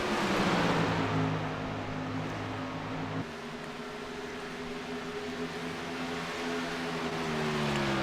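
Racing trucks in iRacing at Kentucky drone loudly past in a close pack, their engine tones holding steady, then shifting in pitch as the trucks move on, with no voices.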